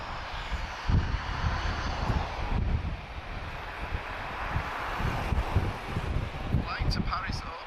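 An Airbus A321-231 jet departing Lisbon for Paris Orly gives off a continuous broadband engine roar mixed with wind buffeting, heard from a distance with a voice talking over it.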